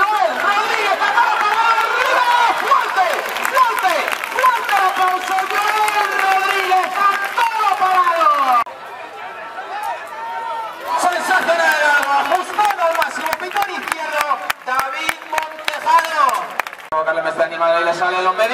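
Rhythmic palmas from a bullring crowd at a village bullfight in Estremera, Spain, steady hand-clapping mixed with loud crowd chatter and a commentator's voice over it, briefly thinning midway before picking up again.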